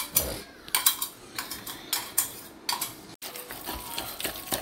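Peanut paste chutney being mixed and pounded in a stone mortar for a Rayalaseema-style dish, giving repeated scraping and knocking strokes at an uneven rhythm, close and moderately loud, with no talk.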